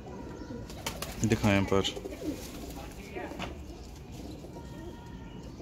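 Kamagar and Teddy breed pigeons cooing, a short burst of low, throaty rolling coos near the mic amid faint background murmur, with someone speaking briefly.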